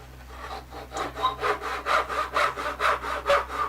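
A handsaw cuts through wood in steady back-and-forth strokes, the rasping pulses picking up into a regular rhythm of about two strokes per second, close and clear with no talking.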